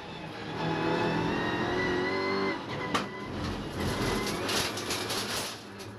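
Onboard an Audi TCR race car at TT Circuit Assen, the engine holds a steady loud drone with clear harmonics, then shifts pitch and roughens through the second half amid wind and track noise.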